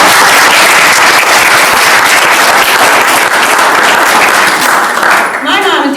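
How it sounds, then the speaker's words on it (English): A crowd at a French Lick St Angelo reunion gathering bursts into loud, dense applause, continuous close clapping that barely lets up for six seconds before thinning slightly at the end. "I think we should all applaud Bill for keeping the email going."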